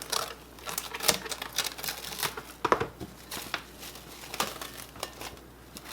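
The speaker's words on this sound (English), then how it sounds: "Now all I'm going to do is cover this in plastic wrap really well." Plastic wrap is pulled and stretched over a bowl of oiled brioche dough, producing soft, irregular crinkles and crackles with a few sharper snaps, fairly faint and close, with no voices.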